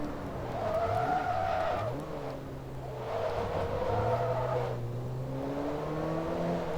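A loose-tailed race car in Forza Motorsport 2 slides with sustained tire squeal over a revving engine whose pitch rises and falls through the drift, steady and loud for several seconds.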